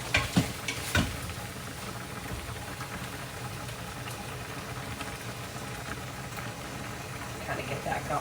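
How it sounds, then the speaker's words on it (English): Chicken sizzling and crackling in butter in a pan, a steady frying hiss with a few clatters at the start and end. "put a little bit of butter in the pan, put the lid on, saute it"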